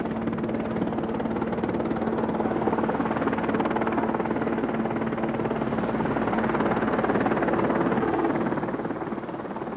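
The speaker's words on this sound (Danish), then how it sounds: "Med demonstration af helikopterredningstjeneste" A rescue helicopter drones steadily through a harbour show demonstration, its continuous loud rotor and engine roar with a persistent low hum filling the whole stretch without a break.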